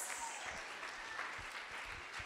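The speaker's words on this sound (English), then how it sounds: "let's give them a round of applause." Steady crowd applause at a wedding, dense clapping sustained throughout at a moderate level with no voices standing out.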